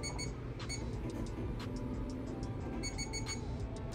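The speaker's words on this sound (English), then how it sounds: "This isn't gonna touch you, it's just gonna go in and out of focus and go beep beep." An eye examination machine emits short high beeps in small clusters as it moves in and out of focus, faint and repeated over a low steady room hum.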